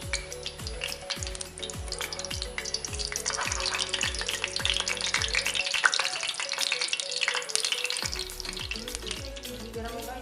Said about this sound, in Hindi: अब इसका फ्लेम ऑफ कर देंगे और इसमें तड़का डालेंगे।